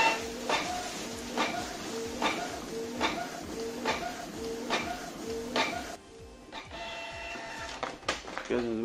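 Canon inkjet printer printing a nozzle check: a steady run of rhythmic mechanical passes, about one per second, with carriage whirs and clicks, then a shift to shorter feed and eject noises near the end.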